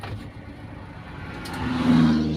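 A hot carbureted Daihatsu Taruna engine idles at about 900 rpm, giving a steady low mechanical hum that rises slightly in level toward the end, heard alone without talk.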